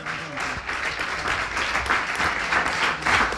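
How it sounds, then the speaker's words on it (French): Audience applause at the 2015 Salon de la Radio, greeting a candidate in the radio journalist category: a steady, dense wash of clapping from a hall crowd, continuous and even throughout. "Je vous demande de l'applaudir"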